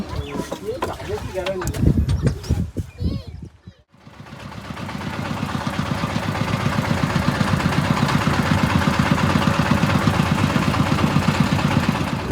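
After some clattering and a brief pause, a boat's motor engine starts and settles into a loud, steady, throbbing idle that continues throughout, on a river crossing.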